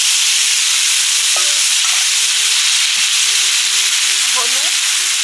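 Onion paste and ginger-garlic paste fry in hot oil, a continuous, close hissing sizzle with a faint steady hum underneath and a few brief clinks.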